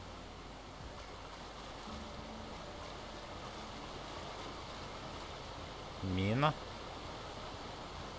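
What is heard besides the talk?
waterfall ambience in video game The Outer Worlds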